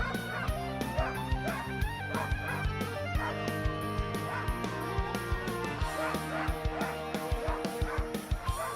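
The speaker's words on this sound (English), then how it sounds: "running a team from Tom Bauer's Otter River Sled Dog Training Center and Wilderness Adventures" Sled dogs at the start of the CopperDog sled dog race barking and yipping in a constant excited chorus of sharp, repeated, close yelps, with faint talking underneath.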